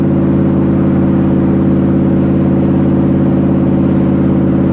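A loud, steady Shelby Cobra sports car engine drones at close range, a deep rumbling idle with a constant low hum and no voices.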